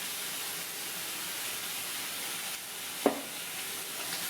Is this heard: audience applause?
no